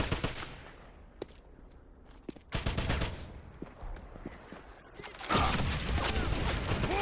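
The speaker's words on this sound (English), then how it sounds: "I need suppressing fire!" Gunfire in the Xbox 360 game Wolfenstein, loud bursts of rapid shots and fusillades separated by quieter stretches with mechanical clanks, the shooting growing dense and heavy toward the end.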